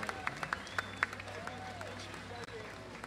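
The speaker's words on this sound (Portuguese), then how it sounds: "Aplaudam o glorioso mestre Manuel Dionísio." Audience clapping for Mestre Manoel Dionísio at an evening tribute event in Rocinha, a steady patter of applause with a few sharp louder claps, heard under a presenter's amplified voice.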